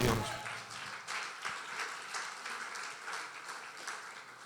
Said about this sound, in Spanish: ¿Cuántos le damos una ofrenda de aplauso a Dios?